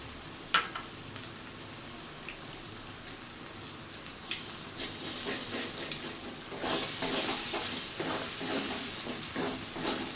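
Two eggs fry with spices in a pan, starting as a low, steady sizzle with occasional clicks, then turning into a louder, hissing crackle as frying intensifies in the second half.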